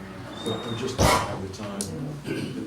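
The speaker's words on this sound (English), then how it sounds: "That's my dog." A dog barks once, loud and close, amid a man's ongoing conversation in an indoor room.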